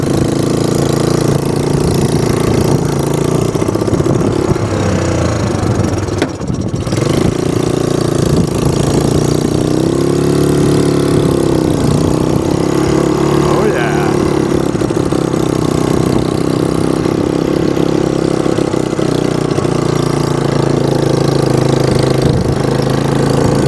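A golf cart fitted with a back seat drives with passengers aboard, its motor giving a steady, loud, close-up drone that holds without a break for over twenty seconds, with no talking.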